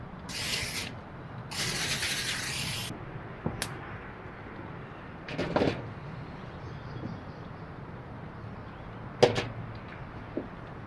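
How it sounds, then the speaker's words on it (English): Two hissing bursts of cooking spray, a short one followed by a longer one, then a few soft clicks and knocks over a quiet room hum. "Spray it with some cooking spray."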